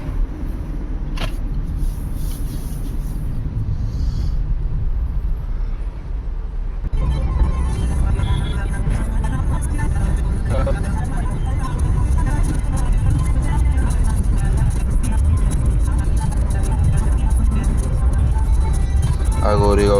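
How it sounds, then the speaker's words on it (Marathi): A car climbs the ghat road above Goregaon at night, its engine a steady low rumble that thickens and grows louder partway through, with faint rattles and road noise inside the cabin. "रात्रीला गाडी चालवायची मजा अलगच आहे."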